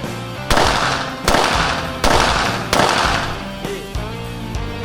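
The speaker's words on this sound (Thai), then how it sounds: "ถือว่าเป็น การยิงปืนที่เข้มข้นมากๆเลยนะครับ" Several loud gunshots at close range during police shooting training, spaced about a second apart, each with a sharp crack and echoing tail, followed by a fainter final shot.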